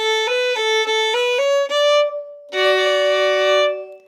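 Fiddle notes bowed in a short stepping pattern, then two strings sounded together in a sustained closing chord that fades out, played solo.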